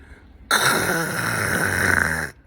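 A voice imitates the harsh scratching screech of a skate stopper scraping across a floor, one loud rasping sound held for about two seconds.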